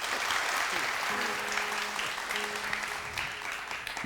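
A studio audience at a Ramadan quiz show claps continuously, a soft, fairly distant wash of applause with faint tonal music lines underneath throughout.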